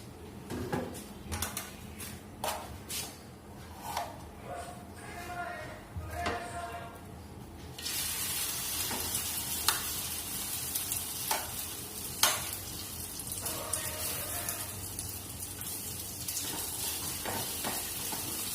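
Refined oil hits a hot pan in a home kitchen while cooking a quick fast-food dish, bursting into a loud, steady broadband sizzle about halfway through, with stirring clatter and utensil knocks both before and during the frying.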